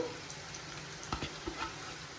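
Ivy gourd (dondakaya) pieces deep-frying in oil in a kadai, a soft continuous sizzle with a few light stirring clinks, fairly faint and without talk.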